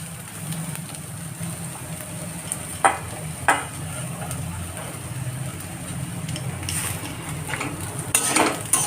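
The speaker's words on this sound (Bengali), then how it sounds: "এবার এটা হচ্ছে মেথি শাকটা এর মধ্যে দিয়ে দিচ্ছি।" Fenugreek leaves go into a pan of frying onion and garlic in a home kitchen, with soft sizzling, stirring and a few sharp utensil scrapes against the pan, then clattering near the end.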